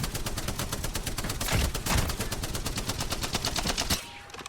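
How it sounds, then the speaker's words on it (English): Spitfire light machine gun in Apex Legends firing a long, unbroken automatic burst of evenly spaced loud shots, close up, ending abruptly near the end with no talking. "The Spitfire has a lot of bullets."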